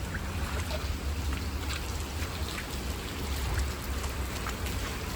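Heavy rain in the Philippines pours steadily, flooding the area, with a dense patter of drops on surfaces and a low rumbling undertone, loud and continuous.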